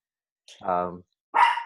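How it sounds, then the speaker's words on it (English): A pet dog barks nearby indoors, two short separate barks roughly a second apart, the first a fuller woof and the second sharper, with no talking over them. "sorry, that's my dog."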